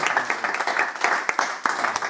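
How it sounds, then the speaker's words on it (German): Applause at a local running event in Germany, a crowd clapping in a dense, steady patter with a few sharper individual claps, fairly close and moderately loud. "das ist ein Applaus wert"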